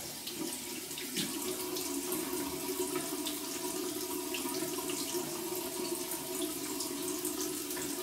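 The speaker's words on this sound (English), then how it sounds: "We get under some cold water and see what kind of feedback we get." Cold tap water runs steadily into a sink, a constant rushing splash with no pauses, close and fairly loud throughout.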